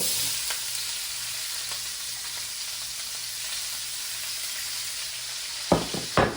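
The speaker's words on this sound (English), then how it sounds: "now we're about to throw our vegetables in" Sliced peppers and onion sizzling in a hot, smoking steak pan, a constant close frying hiss with a faint hum and a few utensil knocks near the end.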